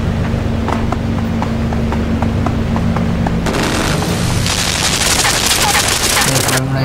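Gunfire from an armed enemy in the game Limbo: dense, loud rapid bursts with booming low rumble, a faint series of regular ticks early on, then a louder wash of crackling noise from the midpoint, with a voice faintly underneath.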